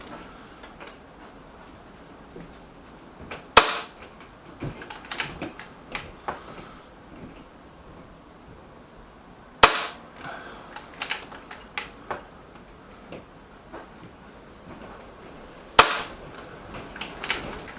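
An EB Arms XV2 air rifle fires Arms Diablo pellets outdoors in a field: three sharp, loud shots spaced about six seconds apart, each followed by brief mechanical clicks and handling noise, with no talking.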